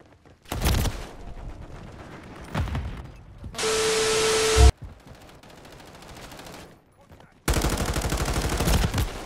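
Pistol and other gunfire in Call of Duty MWIII: loud bursts of rapid shots in several clusters, with a long roaring stretch, dense and close against quieter gaps.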